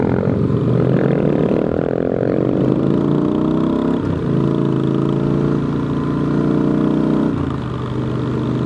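A motorcycle cruises on the open road on a warm spring day, its engine droning steadily and loudly throughout with a slight change in pitch as speed shifts, plus continuous wind rush.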